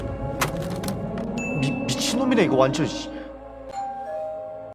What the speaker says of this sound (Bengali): তখন কেউ একজন কলিং বেল বাজায়